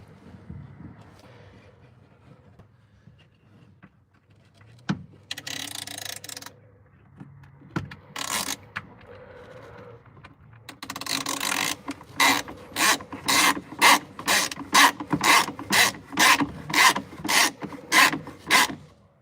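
In a shop, a ratchet wrench tightens a nut in a steady run of rapid, rhythmic clicking strokes that grow loud and close. Quieter scraping and handling noises come first.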